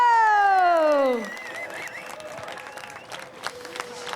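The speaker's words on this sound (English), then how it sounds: "please, can you give the biggest, the most huge cheer for" A falling, voice-like tone gives way to scattered applause and cheering from a crowd at a sailors' parade and dock-out before an in-port sailing race in The Hague, the clapping distant and moderately loud.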